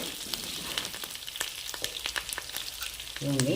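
Paper poha chivda fries in hot oil with sesame seeds, a soft crackling sizzle dotted with sharp pops and stirring scrapes, close up, before a voice starts at the end.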